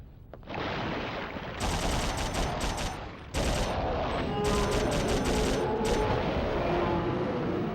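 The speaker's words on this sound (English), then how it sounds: "shooting these boys with these guns is so satisfying" Sustained gunfire from shooting enemies in Dino Crisis 2, loud, rapid automatic bursts rattling almost continuously with brief gaps between volleys.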